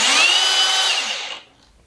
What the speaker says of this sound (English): The clutch kicks in, stops the screw, and stops the drill from driving any deeper.